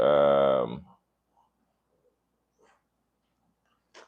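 A dog lets out one loud, drawn-out whining bark close by, followed by near silence with only a few faint soft noises.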